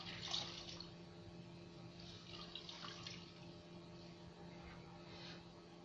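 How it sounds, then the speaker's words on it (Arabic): Water runs and splashes steadily while a carpet is being rinsed, a continuous broadband wash with a faint low hum underneath, no voices. "اشطفها كده اهوت"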